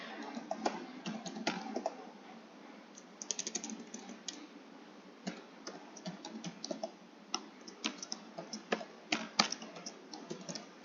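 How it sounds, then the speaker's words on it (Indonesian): A computer keyboard is typed on at close range in irregular bursts of light clicking keystrokes, some sharper taps standing out, with no talk over it. "Di sini saya mengetik"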